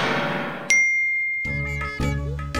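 A mobile phone gives a single bright ding as a message notification, ringing clearly and fading out, followed by louder tonal music.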